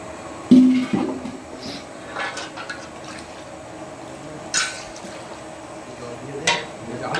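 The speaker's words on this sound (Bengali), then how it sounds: "দিয়ে দেওয়া হলো জল।" Water poured into a cooking pot while making mutton kosha at a Bengali village picnic, a brief splash followed by faint trickling and dripping against outdoor background noise.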